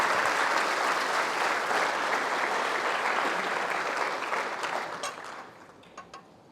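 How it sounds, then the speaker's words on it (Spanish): A church congregation claps loudly and steadily in unison, a dense roomful of hands that holds strong before tapering off into scattered final claps near the end. "Dele un aplauso al Rey."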